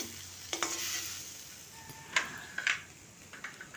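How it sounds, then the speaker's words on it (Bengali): A radish dish with turmeric is stirred in a pan in a Bankura village home kitchen. Several distinct spatula scrapes and clacks sound over a faint, steady sizzle, close by and without voices. "আবার একটু ভালো করে মিশিয়ে নিচ্ছি"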